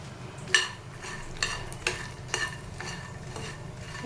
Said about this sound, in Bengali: মাখনাগুলো ভাজবো, সব মাখনাগুলো দিয়ে দিলাম